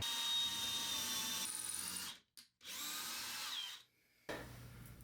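A hook is screwed into a wall stud with a drill, giving two bursts of steady whirring motor and grinding, the second ending in a short gap before a quieter stretch.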